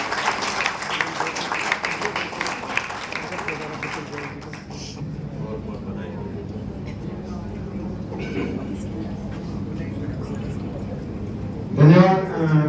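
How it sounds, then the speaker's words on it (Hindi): Applause at a welcome ceremony for newly elected legislators in a hall, with a minister being greeted with a bouquet. Dense clapping fills the first four seconds, then thins and fades as talk and room noise take over. "तालियां जोर से"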